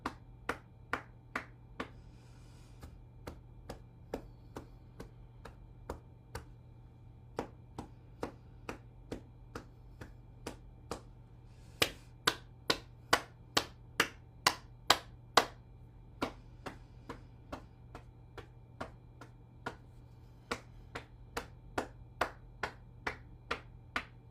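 Steady hand clapping during a circulation-boosting exercise session, dozens of sharp claps in an even rhythm that briefly grows louder and then continues at a similar pace, close and clear over a faint background hum.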